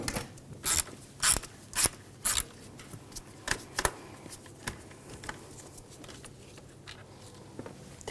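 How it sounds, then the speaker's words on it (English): A ratchet loosens a nut or bolt on the engine of a 2007–2013 BMW X5 with the 3.0L straight-six, giving bursts of sharp close clicking in short, irregular runs separated by quiet gaps. "We're gonna loosen up this nut,"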